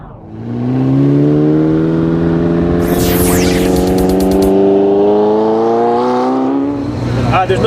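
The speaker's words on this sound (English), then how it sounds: "I'm about to do a little burnout." A 2014 Chevy Silverado pickup revs hard through a burnout, its loud engine note climbing and holding steady with a brief screech partway through, then tapering off near the end.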